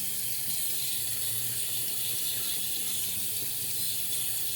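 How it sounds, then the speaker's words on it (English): Water runs steadily from a tap into a sink while the face is wetted before shaving, a constant hiss with no talk. "So I'm going to wet the face and get the lathering for the first pass with the green."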